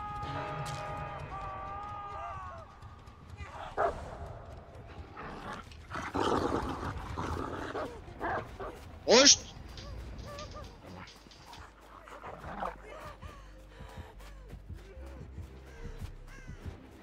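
The Houndmaster's dog in the Dead by Daylight video game lets out several harsh, raspy barks at irregular intervals, some sharp and loud, mixed with other game effects.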